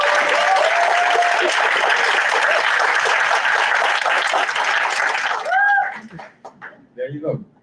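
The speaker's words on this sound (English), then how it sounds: "a big round of applause to Mark Socio-Palmer for his work in this workshop" A workshop audience at a symposium applauds an organizer: dense, loud, continuous clapping from a crowd for about five seconds, close up, then cutting off as a voice starts talking over the tail.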